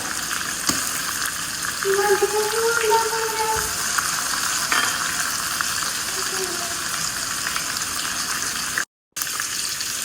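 Chunks of chicken for a curry fry in a pan with a steady, close, crackling sizzle throughout, a voice briefly audible and a momentary dropout near the end.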